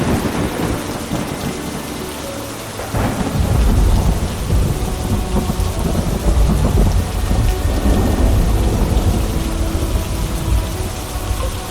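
Heavy rain pours steadily throughout a thunderstorm, loud and dense, and a deep rolling rumble of thunder swells in around the midpoint and lingers under the downpour.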